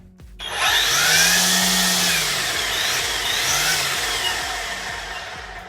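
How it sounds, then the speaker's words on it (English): An EGO 56V cordless string trimmer spins up quickly and runs at a steady high whine, with a brief dip in pitch midway as the line loads, close and loud with no talking. "let's give our trimmer a test"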